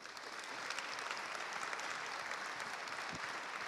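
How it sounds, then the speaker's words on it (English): An audience claps steadily in a sustained round of applause that continues throughout without fading. "Give them one more round of applause"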